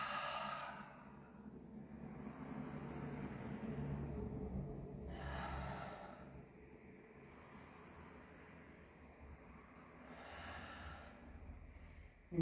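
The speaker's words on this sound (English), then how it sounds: "Give me 3 big breaths in and out through your nose. Exhale through your mouth." Slow, deep nasal inhales and mouth exhales during a flow-and-stretch yoga class, three broad breath swells spaced a few seconds apart, close and fairly soft over a low steady background hum.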